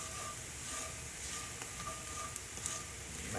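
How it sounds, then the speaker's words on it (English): Seasoned corn with salt and pepper is stirred in a hot skillet, giving a steady, fairly quiet sizzle with a few faint scrapes and clicks. "And stir that around real good."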